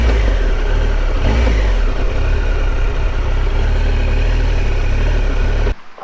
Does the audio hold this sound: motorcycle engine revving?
yes